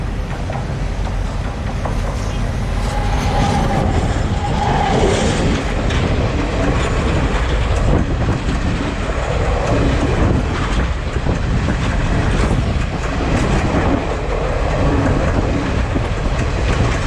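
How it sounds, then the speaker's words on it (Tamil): A train passes close by on a coastal railway line in Sri Lanka, a loud, steady rumble with clickety-clack of wheels over rail joints and wagons rolling past for the whole stretch, with no talk. "I'm gonna show you the train in close-up."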